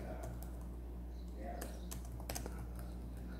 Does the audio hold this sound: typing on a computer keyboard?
yes